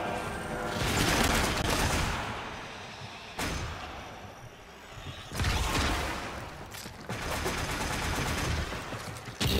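A creature fires at pillars in the Warframe video game, with loud sustained bursts of rapid gunfire broken by short pauses and rumbling booms. No one speaks.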